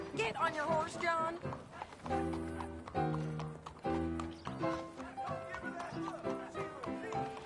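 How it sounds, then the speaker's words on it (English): Horse hooves clip-clop steadily under a music score in Red Dead Redemption 2, with a horse whinnying at times and voices speaking over it. "Get on your horse, John."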